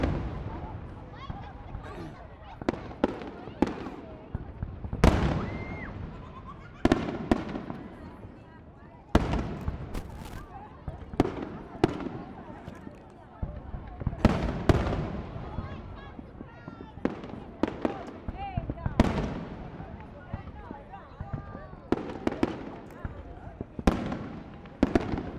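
Fireworks burst repeatedly, sharp bangs and crackles at irregular intervals, some close and loud, others fainter, with quiet gaps between volleys.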